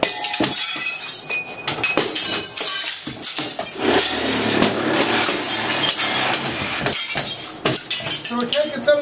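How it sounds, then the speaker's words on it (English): Glass shattering and clinking during work on old reptile cages being cut apart, with broken pieces crashing and tinkling in bursts throughout, mixed with someone talking. "broken glass"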